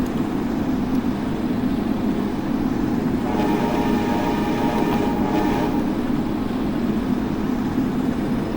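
An Amtrak Northeast Regional passenger train runs steadily in a railway simulator, a continuous loud rumble of wheels and motors with a brief tonal horn-like sound in the middle, and no talking.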